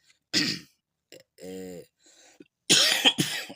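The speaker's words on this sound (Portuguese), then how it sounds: "desculpa, pessoal, tosse" A close, harsh cough, followed by a raspy throat-clearing sound and then another pair of strong coughs.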